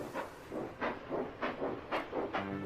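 A steam locomotive puffs along, with regular rhythmic chuffs and hissing bursts, about six evenly spaced beats, fairly close and strong, with no voices over it.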